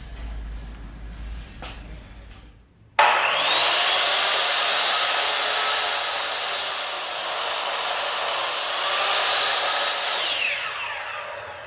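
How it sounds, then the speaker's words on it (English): A miter saw spins up with a sharp start and cuts through wood in one long, steady whining pass lasting several seconds, loud and close, then winds down at the end. "I'm actually going to use my miter saw"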